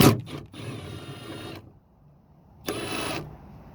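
Milwaukee 10mm socket taking nuts off a 2012–2014 Camry, with two short bursts of a buzzing ratchet or driver whir separated by a quiet gap, close and moderately loud.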